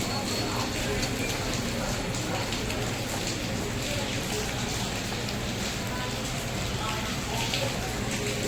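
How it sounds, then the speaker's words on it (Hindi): Steady rain falling in a residential street during a cold spell, a dense continuous hiss and patter with no breaks, fairly loud and close, with a faint voice in the background. "तो ये है गाइस बारिश का नज़ारा"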